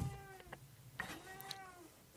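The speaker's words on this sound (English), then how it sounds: "And my poor kitty is just crying." A house cat cries with a few drawn-out meows spread across a couple of seconds, fairly close and clear, over a quiet indoor background.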